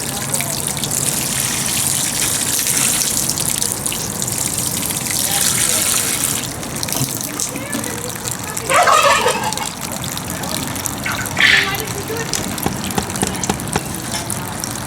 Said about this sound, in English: We're going to water it from the top and watch it trickle down.